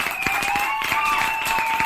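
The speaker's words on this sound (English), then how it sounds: "So applause, please, from our imaginary studio audience here." Brief burst of applause, presented as coming from a studio audience, with steady mixed clapping at moderate distance over a faint tonal background.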